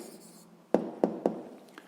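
A pen writes an answer for a sixth-grade maths exercise on a cube, with faint scratching followed by three distinct taps or strokes in quick succession, close and dry.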